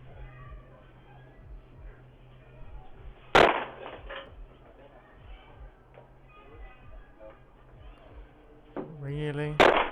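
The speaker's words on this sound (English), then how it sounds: "The man who owns the house is able to hear the loud bangs of the attempted burglar's foot hitting the door" Attempted burglar's foot hitting a front door, picked up by a doorbell camera: one sharp, loud bang near the middle and another near the end over a low hum and faint background noise.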